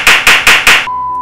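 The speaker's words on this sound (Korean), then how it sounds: "박수!" Four sharp, evenly spaced hand claps ring out loud and close as a guest is welcomed on a haircut show, followed by a steady electronic beep.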